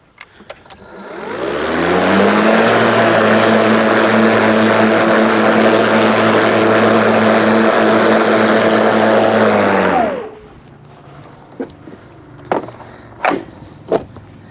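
A Ryobi 36V brushless battery lawn mower spins up and holds a loud, even motor drone for about eight seconds, then winds down and cuts off, leaving a few sharp knocks and clicks.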